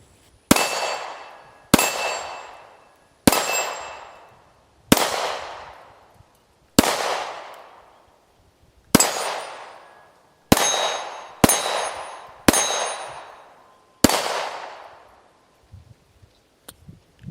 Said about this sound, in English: Got some 12-inch plates and some 4-inch plates, and just rapid fire, easy as it gets.